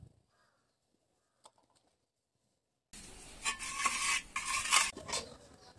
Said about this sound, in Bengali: আমার কাছে হ্যান্ড বিটার নেই, তাই আমি এই চামচটা দিয়ে দইটাকে ফেটিয়ে নিচ্ছি।